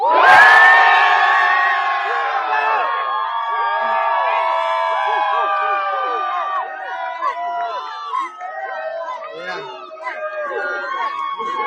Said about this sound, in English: you have quite the crowd down there